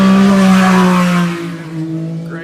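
A UTV race car at the High Desert 100 in Powell, Wyoming roars loudly across the finish line, its engine holding a strong steady drone before easing off as it passes and fades slightly.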